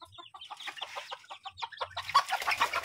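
Chickens clucking in quick, choppy bursts close by, a few birds chattering with short pauses between calls.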